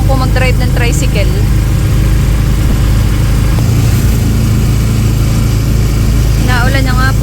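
A tricycle's motor engine hums loud and close while riding in the rain, a steady low rumble running throughout, with voices talking over it at the start and end.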